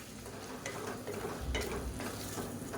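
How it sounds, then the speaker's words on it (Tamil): Mutton and potato pieces sautéing in a pan, a continuous close sizzle and crackle with occasional scraping stirs, loud and steady with no voices. "இப்போ பாருங்கள் மட்டன் உருளைக்கிழங்கு எல்லாம் நல்லா வதக்கியாச்சு"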